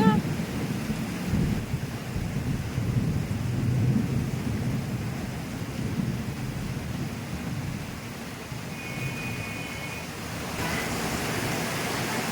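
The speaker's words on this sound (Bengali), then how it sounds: "পুরো চারিদিকটা সাদা হয়ে গেছে এত জোর বৃষ্টি হচ্ছে" Heavy rain pours onto a waterlogged street, a dense, steady roar of downpour with low rumbling and occasional passing vehicles through the flooded road, continuous throughout.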